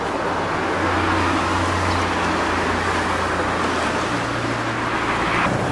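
Steady, loud road traffic rolls past continuously, a dense roar of cars and buses with engine drones rising and falling and no pause.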